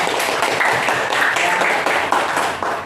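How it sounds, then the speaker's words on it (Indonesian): Middle school students clap together in a classroom, a steady, moderately loud patter of many hands that goes on throughout. "Tepuk tangan dong untuk semuanya"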